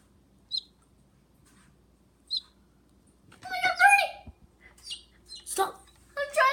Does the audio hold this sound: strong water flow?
no